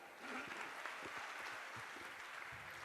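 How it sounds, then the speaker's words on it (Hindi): Audience clapping at a religious gathering after a question is praised, a soft, distant, steady patter of many hands with a few low thumps mixed in. "ताली बजाइए।"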